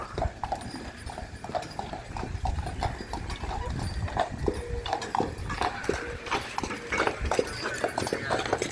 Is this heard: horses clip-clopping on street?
yes